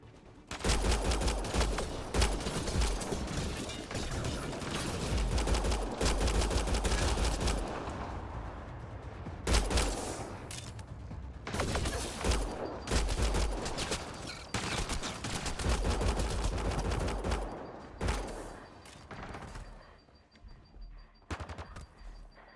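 Sustained automatic gunfire in the sci-fi shooter game Mass Effect Andromeda, loud dense bursts of rapid shots with brief pauses, tapering off toward the end.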